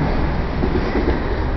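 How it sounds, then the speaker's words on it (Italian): A train passes by as a loud, steady rumbling roar of rolling wheels and carriages, constant and close throughout, with faint rhythmic rattles and no talking. "sta passando un treno"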